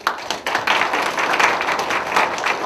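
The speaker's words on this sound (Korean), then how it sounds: "박수소리가 아주 커서 감사합니다." Audience clapping fills a lecture hall in a dense, steady round of applause from many hands, fairly close and loud, holding level throughout without any voices.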